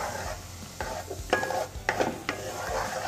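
Melting jaggery syrup in a pan over a medium flame is stirred slowly, giving repeated close scrapes and soft knocks of the spoon over a low bubbling sizzle.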